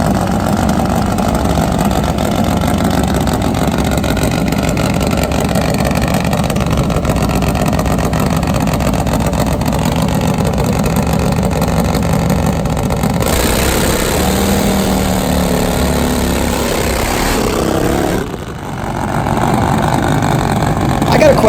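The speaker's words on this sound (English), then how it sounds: "I will let you enjoy some sweet sounds here of Nitro Harley" Top Fuel nitro Harley drag bikes at an NHRA professional drag race, a loud continuous engine roar dominating throughout with a brief dip near the end, crowd or voices mixed underneath.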